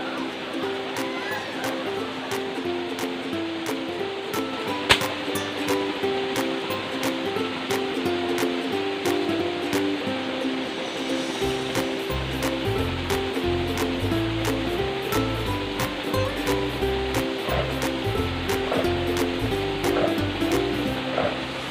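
Water runs steadily through a creek where airgun dart fishing for tilapia goes on, a continuous close rushing wash with a few sharp clicks, while people talk now and then.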